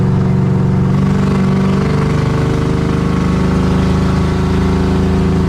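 A steady, loud engine rumble with a low muffler exhaust drone from a 1977 Chevy Malibu on the road, continuous throughout with no voices.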